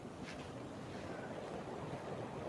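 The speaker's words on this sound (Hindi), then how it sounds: "ये हमारे गांव का वाटरफॉल है।" A village waterfall on a river, heard as a steady, dense rush of falling water with some wind noise, constant and moderately loud with no talking.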